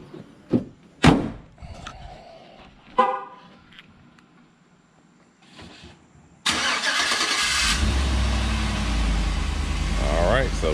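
A Chevrolet truck that had stopped starting is cranked on ramps: a few short clicks and a horn-like toot, then a sudden loud, sustained broadband roar as the engine catches and keeps running, with a voice briefly before.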